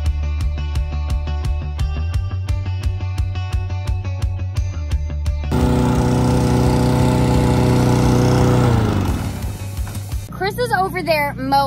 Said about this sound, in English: we're here to wrap up the mowing